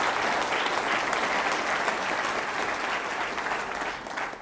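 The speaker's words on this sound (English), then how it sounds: "Please give Linda a round of applause for everything that she does" Sustained applause fills a university all-hands meeting, dense even clapping from a sizable audience that holds steady and then begins to taper off at the end.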